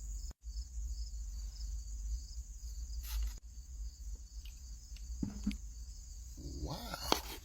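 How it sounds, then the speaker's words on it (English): Crickets chirp steadily in a high continuous trill, quiet and distant, with a few soft clicks and a brief rustle near the end. "Crickets happen at night in the PM."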